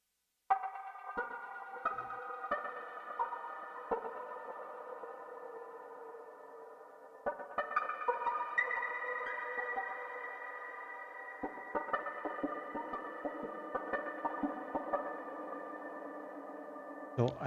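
PWM Mantis Oscar waveform patches played as sustained synth tones through a Hotone Verbera reverb pedal, with several chords and notes swelling, ringing out and overlapping in a lush wash.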